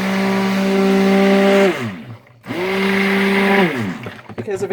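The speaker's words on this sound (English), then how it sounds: "we'll blend this up" Blender whirring through an orange soap mixture, two loud steady runs with a brief pause between and a falling whine as the motor spins down.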